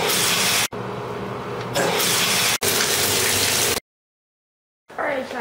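Water from a home shower runs in steady broadband spray, loud and close, broken by brief gaps, then cut off into silence before flowing again at the end.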